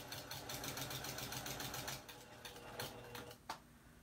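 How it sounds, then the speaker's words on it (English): A sewing machine stitches a quilt seam in a fast, even mechanical patter of needle strokes, close and steady, slowing briefly near the end with a small knock. "I am going to sew until the needle hits that line"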